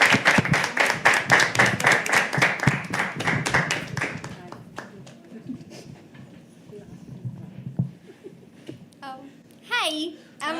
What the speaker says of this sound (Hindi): एक बार जोरदार तालियां महक के लिए प्लीज